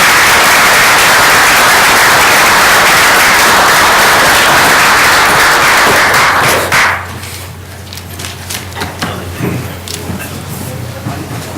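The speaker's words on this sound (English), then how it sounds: "Perhaps another round of applause." A round of applause at a council meeting, dense steady clapping from a group for several seconds that then stops abruptly, leaving quieter room noise and a few thumps.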